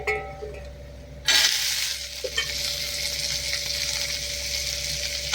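Grated coconut roasted in a pan for avarakkai rice, starting quietly then swelling into a loud, continuous sizzling hiss with light stirring scrapes throughout.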